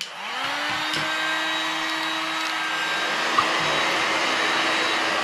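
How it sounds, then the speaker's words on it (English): Two heat guns running on high from a portable battery power station, a loud, steady blowing roar whose motor whine rises as they spin up and then holds constant. "So let's fire up these heat guns here."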